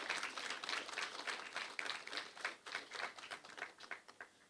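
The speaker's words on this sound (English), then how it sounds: "let's give a round of applause to the project" Applause at an official digital device hand-over ceremony, a steady crowd of hands clapping for about four seconds with no voices on top.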